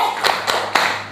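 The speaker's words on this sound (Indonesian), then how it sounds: "saya mau ajak kalian tepuk PPK" Children clap the rhythmic tepuk PPK chant, with three sharp, evenly spaced claps sounding close and distinct.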